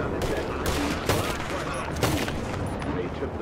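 Gunfire in Red Dead Online during a bounty fight: a dense, loud fusillade of overlapping shots with sharper reports near one and two seconds, while people talk underneath.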